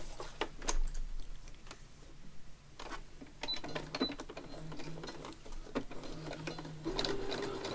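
Sewing machine stitching through the paper pages of a junk journal signature, a steady mechanical whir with bursts of rapid needle clatter, pausing and restarting several times, close and fairly loud.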